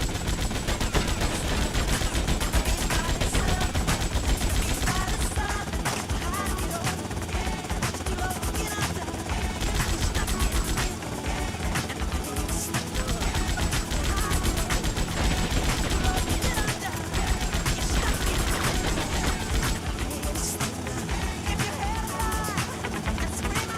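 Dense gunfire from GTA Vice City fills the clip, with rapid bursts and repeated shots over a loud, busy game mix and a voice talking intermittently throughout.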